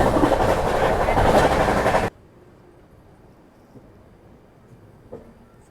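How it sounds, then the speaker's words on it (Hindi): The 12286 Secunderabad Duronto Express rolls slowly into Bina Junction, with a loud rumbling clatter of wheels and cars for about two seconds before it drops abruptly to a faint, quiet hum with a few soft knocks. "फिलहाल अपनी दुरंतो एक्सप्रेस धीमी धीमी रफ्तार में बीना जंक्शन में एंट्री ले रही है"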